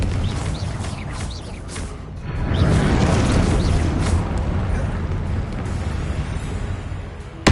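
Confringo, a fiery explosion spell cast in Hogwarts Legacy, sets off a loud rumbling eruption that swells after a brief lead-in of crackling effects, then sustains with a rolling roar before a sharp pop at the end.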